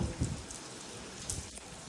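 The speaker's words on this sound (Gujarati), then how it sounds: "જો વરસાદ થઈ ગયો છે ચાલુ" Steady rain falls over a village, a soft continuous patter with no voices, heard for a couple of seconds.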